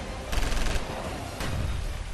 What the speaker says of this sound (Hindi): वाहनों पर ताबड़तोड़ फायरिंग शुरू कर दी